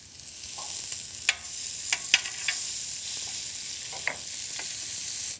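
Beef burgers frying in an oiled pan give off a steady close sizzle broken by several sharp spits and pops, with no one talking.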